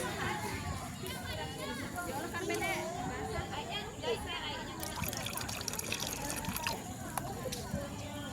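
Rose water pours and trickles steadily into a container, a continuous liquid splash and dribble with background voices and faint activity throughout.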